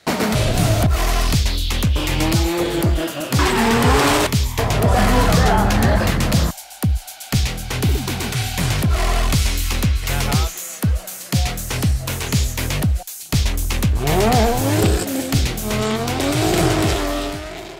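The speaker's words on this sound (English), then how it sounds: "A donut is basically drifting around a center point on a cone." A car spins donuts, drifting in circles around a cone, its tires squealing loudly and almost continuously under the engine's roar, with a few brief breaks between runs.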